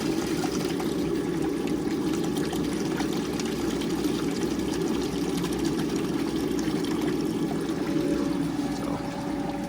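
A pool sand filter pump runs in backwash, water rushing out in a loud, steady, unbroken flow over a low motor hum, with no speech.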